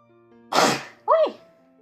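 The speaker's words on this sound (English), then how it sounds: "Gotta sneeze." A single sharp, forceful sneeze bursts out up close, followed right away by a short voiced exclamation.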